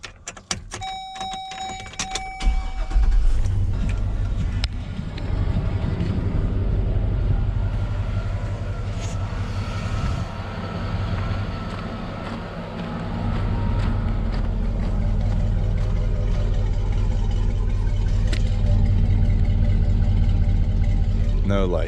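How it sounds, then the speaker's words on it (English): A 2004 Chevrolet Silverado pickup cranks briefly, then its engine catches and settles into a steady, rumbling idle that continues close and loud to the end. "Hopefully the truck starts first off."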